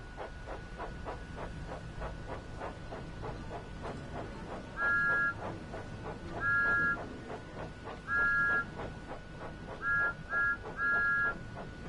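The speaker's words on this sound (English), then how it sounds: "That's the whistle I want for a departure." A steam train whistle in Train Sim World 5 sounds in several short, clear blasts, the last ones in quick succession, over a steady chuffing rhythm.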